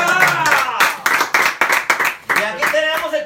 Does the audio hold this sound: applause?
yes